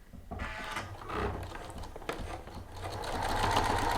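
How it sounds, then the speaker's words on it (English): A sewing machine runs an edge stitch along a bag strap, with the needle moved off center. The mechanical whirring and ticking is close and continuous and builds toward the end, and no one speaks. "You want to stitch all along one side of the strap"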